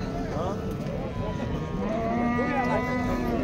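Cattle lowing at a busy livestock bazaar in Chiroqchi, with long, deep moos that rise and hold over steady crowd chatter and background talk.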